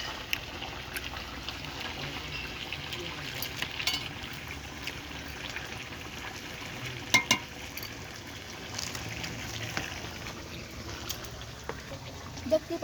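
Chicken leg pieces cook in a pot for spiced, braised kosha mangsho, giving off a steady low sizzle and bubbling hiss. Occasional soft clinks rise above it, and a faint voice can be heard in the background.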